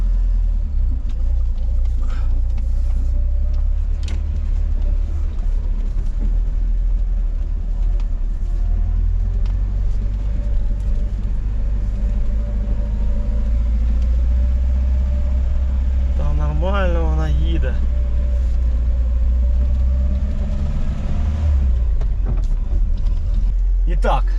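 A VAZ 2106 car engine runs on petrol while warming up, a loud, steady low rumble close by, with a brief rising whine partway through and voices talking over it.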